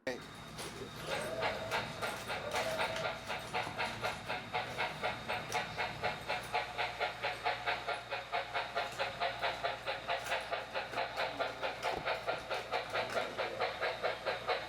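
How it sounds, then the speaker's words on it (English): A model railroad's sound system plays a big articulated steam engine hauling a long coal train: a fast, even chuffing beat that builds after a rough start and then runs steadily, close and moderately loud, over a low hum. "A big old articulated engine pulling a large coal train."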